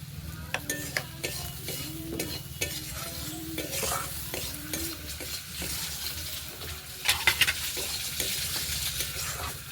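Masala with coriander powder and salt being stirred and fried in a pan for a mango and fish roe curry, a low sizzle under rhythmic scraping strokes of a spatula, with louder clinks of utensil against pan near the end.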